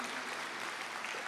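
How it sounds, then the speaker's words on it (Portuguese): A church congregation claps in praise during a sermon, with a brief, fairly faint wash of applause throughout. "Vamos aplaudir ao Senhor."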